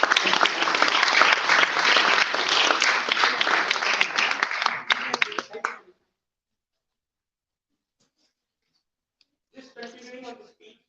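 A big round of applause from an audience at a Gita Jayanti gathering in the UK Parliament, dense clapping for about six seconds that tapers off into silence before brief talk.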